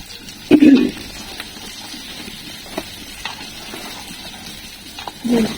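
Olives frying in oil for a sweet, sour and spicy pickle, giving a soft, continuous sizzle with stirring, and a few louder bursts near the start and end.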